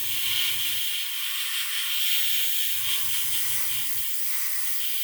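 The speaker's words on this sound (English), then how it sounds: "Yeah, I'm having all sorts of problems with this airbrush today." A hobby airbrush with a blockage, spraying paint for a World War I scale model, gives a steady close hiss with two short bursts of low sputtering pulses as it struggles to flow.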